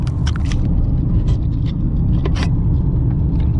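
A Holden Commodore VT 5-litre engine drones steadily while driving, heavy low rumble throughout with faint rattles and scrapes on top, close and continuous.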